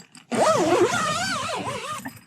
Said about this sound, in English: Just zip those up for now.